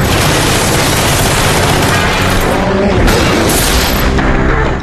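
An assault drone strike hits with a loud, sustained explosive roar that fills the whole range and rumbles on for several seconds before cutting off abruptly.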